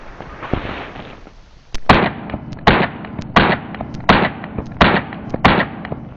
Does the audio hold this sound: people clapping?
no